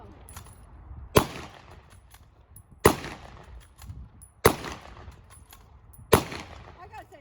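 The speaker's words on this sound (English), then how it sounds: "Go as fast as you can fire the weapon." A military rifle, an M1 carbine, fired during a museum demonstration: four loud, sharp shots spaced roughly a second and a half apart, each with a short ringing decay, and faint background murmur between them.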